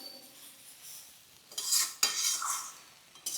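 Cumin and coriander powder stirred into a Bengali hilsa head curry: soft scraping of a utensil against the pan with a couple of louder metallic scrapes and a faint sizzle, close by, no talking.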